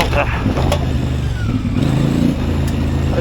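A CF Moto 450MT motorcycle engine rumbles steadily at close range while riding an enduro loop on a dirt road, a continuous low drone with slight revving swells and wind noise throughout.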